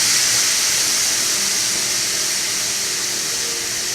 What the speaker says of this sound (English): sizzle away as we add some organic chicken broth